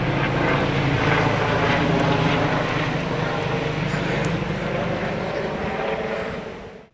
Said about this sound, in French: Il y a un hélico, les amis.